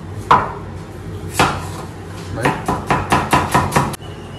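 A knife chopping onion on a board: a few isolated chops, then a quicker run of sharp, close strikes, loud and crisp over quiet background.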